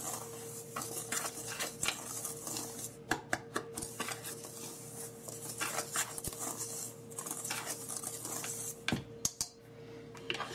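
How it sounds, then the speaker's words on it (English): A spoon's back pressed through dry flour and brown sugar in a mixing bowl for a vegan, gluten-free apple cake, giving soft scraping and scattered light clinks against the bowl, close and quiet, with no talking. "just run your spoon, the back of your spoon through it"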